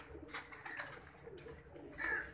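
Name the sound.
pigeons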